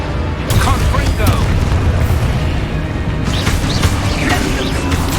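A Confringo blasting spell detonates in Hogwarts Legacy, a video game, a loud booming burst that rolls into a dense rumbling blast with crackling debris, steady and close for several seconds.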